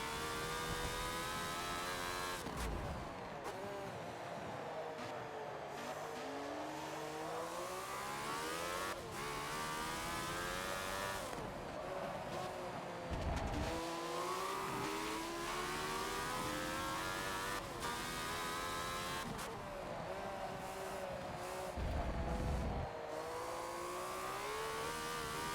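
A 1976 Ferrari F1 car in the video game Forza races around Brands Hatch, its engine screaming up through the gears in rising whines, dropping sharply on each shift and braking, then climbing again, loud and close throughout.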